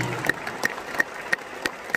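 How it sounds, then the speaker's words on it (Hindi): Sparse audience clapping at a 2023 Hindi poetry recital: a weak, thin patter with a few louder claps standing out at roughly regular intervals over quiet hall ambience. "तालियां कमजोर है दोस्त आपकी।"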